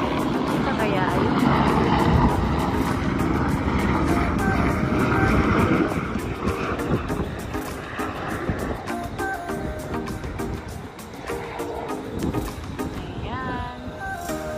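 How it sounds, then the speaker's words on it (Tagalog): A helicopter passes overhead near Manila Bay, a steady broadband drone and rotor hum that stays loud for several seconds, then eases off, mixed with outdoor waterfront noise and people talking. "may helicopter na padaan"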